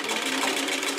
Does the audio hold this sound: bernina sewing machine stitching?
yes